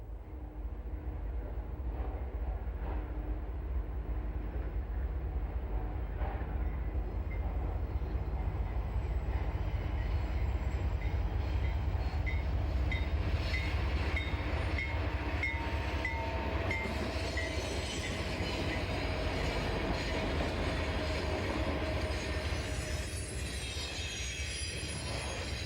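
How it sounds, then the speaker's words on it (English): An eastbound APL stack train hauled by three Union Pacific locomotives rolls past near the Mississippi River, a loud continuous rumble of railcars with squealing wheels and a high tonal whine along the curve. "an APL stack train heads east. 3 UP locomotives power this train of hot cargo from the West Coast"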